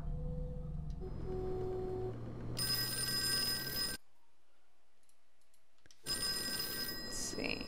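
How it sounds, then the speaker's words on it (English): In the Call of Cthulhu video game, a telephone rings in two bright, metallic bursts separated by a stretch of near-silence, over a low ambient game soundscape. "our phone is ringing."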